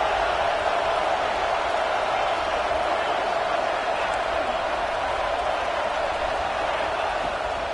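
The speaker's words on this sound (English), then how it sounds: "Big third down as the crowd gets behind this defense." A stadium crowd at a Clemson football game roars steadily through a big third-down play, a dense, unbroken wash of cheering with no clear individual voices.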